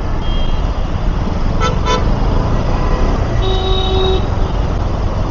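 Busy morning road traffic in a jam, with a steady roar of engines and several car horns sounding, including two quick toots followed by a longer, sustained honk.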